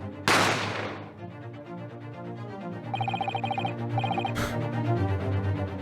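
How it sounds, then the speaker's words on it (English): A single loud gunshot bursts out, followed by a ringing telephone-like tone and background music in a scene from the game The Great Ace Attorney. "You heard the gunshot, you mean?"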